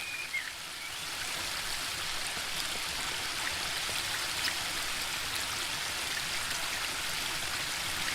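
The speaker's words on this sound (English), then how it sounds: "The waterfall and I have been neighbours for so long that I don't really hear it anymore." Waterfall in the video game The Book of Unwritten Tales 2, a steady, dense rush of falling water that stays constant throughout with no other sounds.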